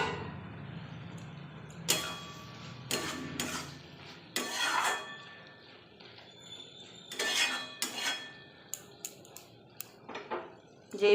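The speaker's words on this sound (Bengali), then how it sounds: "ঢাকা খুলে দেখবো" A metal lid lifts off a cooking pot of simmering potatoes and vegetables, with several close clanks and scrapes of metal cookware spaced among quieter kitchen handling noises.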